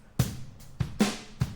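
Drum kit heard through overhead microphones with no processing: sharp snare hits and kick thumps, about four strikes at an even pace, with bright cymbal wash ringing between them, moderately quiet and dry.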